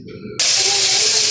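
Garlic hitting hot oil in a pan, with squid later to be cooked: a sudden loud sizzle bursts in after a faint tone and holds as a steady, close hiss.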